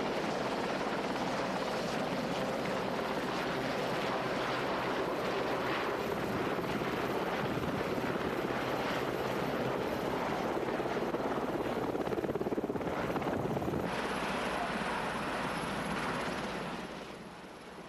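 An RAF mountain rescue helicopter roars steadily and loudly throughout, a dense continuous rotor and engine wash that holds for most of the clip before easing slightly near the end.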